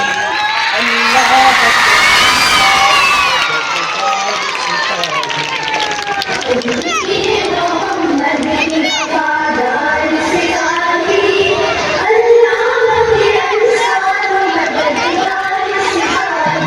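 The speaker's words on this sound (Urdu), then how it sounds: "بہت زیادہ تالیاں" An audience at a school annual function cheers and whoops loudly at first, then settles into scattered clapping and crowd chatter with some shouting voices in the hall.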